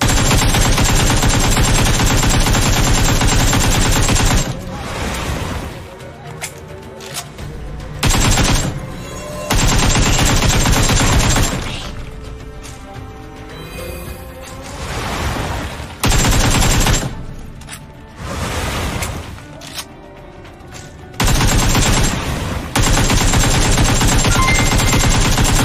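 AKM assault rifle fire in PUBG, loud rapid automatic bursts repeating in several long strings separated by short pauses, with quieter game ambience between bursts.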